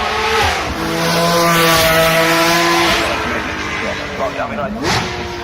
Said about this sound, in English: The GT2 behind it is turbocharged, yeah, and that makes a tremendous amount of power, 700 horsepower